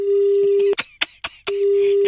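Telephone busy tone after a call is disconnected: a steady electronic tone that breaks off briefly for a few short bursts of sound, then resumes, loud and close.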